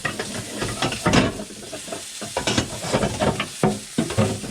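Venison pieces brown in hot oil in a pan, giving a steady close sizzle broken by bursts of scraping and stirring.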